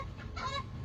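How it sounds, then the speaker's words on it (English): Geese honking loudly outdoors, a short nasal call or two heard at a moderate distance, with no voices over it. "Go away, you geese. They're so loud."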